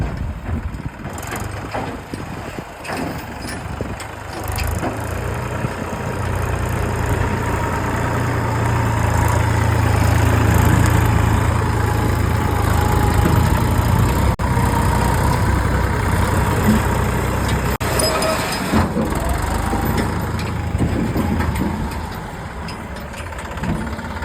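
A low hand tractor engine idles steadily and fairly close, a continuous rumbling drone that swells slightly in the middle before easing off, with no talking.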